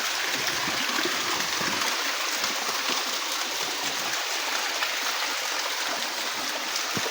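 Water flows continuously down a small waterfall, an even, close hissing rush that holds steady throughout without talk.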